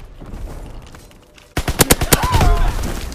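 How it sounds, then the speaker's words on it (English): A fighter plane's strafing run in Call of Duty WW2 arrives as sudden loud bursts of rapid gunfire after a quieter stretch of game ambience, followed by a rumbling tail. "Fighter pilot inbound, strafing the target."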